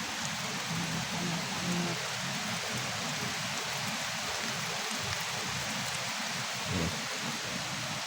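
Continuous rain pouring over a chili farm, a dense steady wash of drops with faint scattered taps and a brief low rumble, no one speaking.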